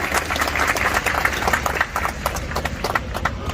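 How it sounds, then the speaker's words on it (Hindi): An audience applauding the home guards at a 76th Home Guard foundation day event, loud, dense, continuous clapping from a large crowd sustained throughout. "तो जोरदार ताली दीजिए सभी गृह रक्षकों की।"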